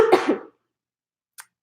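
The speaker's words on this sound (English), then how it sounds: "Excuse me, I have to cough again." One person coughs nearby in a short harsh burst, then silence with a faint brief sound near the end.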